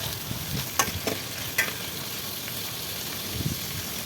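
Byadgi chillies, garlic, ginger and tomato are stirred in a hot pan, giving a steady sizzle with a few sharp scraping clacks of the spoon against the pan, close and without talk.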